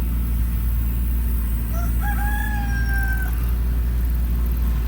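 A single rooster crow rises midway and fades, heard at a moderate distance over a low, constant rumble on a homestead, with no voices.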